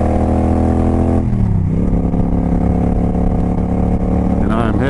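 A motorcycle rides along Highway 985 north of Cornelia, Georgia, its engine droning loud and close with a steady mid-pitched roar, shifting down then climbing again as it revs.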